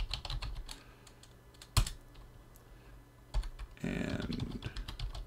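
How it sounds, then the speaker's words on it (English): Typing on a computer keyboard while setting up a SolidRun HoneyComb desktop, with a steady run of close, crisp key clicks, a few louder isolated taps, and a brief burst of faster typing near the end. "let's do it the old way and just type it in"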